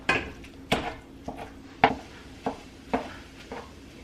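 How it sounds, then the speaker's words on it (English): A scraper breaks up browning ground lamb in a pan, with about seven sharp scrapes and clacks against the metal at uneven intervals over a soft background sizzle. "take our mix and scraper and start breaking it up some more and moving it around the pan"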